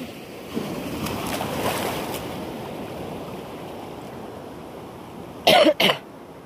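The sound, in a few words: big ocean waves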